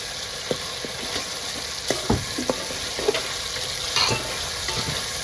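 Whole cumin seeds fry with ginger garlic paste in a pan, a constant close crackling sizzle broken by repeated sharp clicks and scrapes of a spoon stirring against the pan, with no voices.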